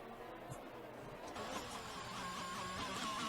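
Ferrari and Haas Formula 1 cars in a racing video game roar side by side down the main straight, a loud sustained engine drone that builds in intensity and pitch.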